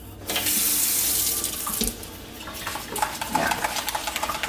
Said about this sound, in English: Треба да си ја измиеш оризо секој пат, оти има starch.